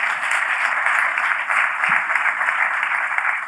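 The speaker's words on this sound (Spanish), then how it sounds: "Un aplauso." Audience applause, a dense, loud burst of many hands clapping continuously for a few seconds with a slight swell and no break.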